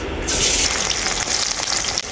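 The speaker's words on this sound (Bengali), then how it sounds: "পেঁয়াজটাকে আমি হালকা করে ভেজে নিয়েছি" Onions fry with salt in hot mustard oil, giving a loud, even, close sizzle that runs without a break the whole time.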